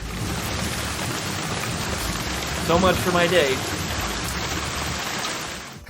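Steady rain falls throughout, a broad continuous hiss at a constant level, while someone speaks briefly near the middle over it.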